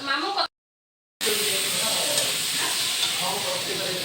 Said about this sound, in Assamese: মাছ ফ্ৰাই কৰি আছো